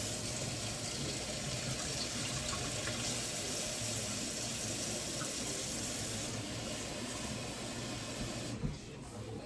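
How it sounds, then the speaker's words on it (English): Lukewarm water runs steadily from a tap for several seconds, a close, continuous splashing hiss that stops abruptly near the end. "Alright, water. Preferably lukewarm."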